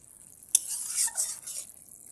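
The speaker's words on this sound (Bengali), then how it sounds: "গরম মশলা দিয়ে আমি ভালো করে এবার নেড়ে নিচ্ছি।" A spoon scrapes and stirs through a fish and cauliflower curry just after garam masala goes in, a short burst of close scraping and faint simmer that fades out again.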